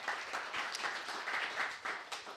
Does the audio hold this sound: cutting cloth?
no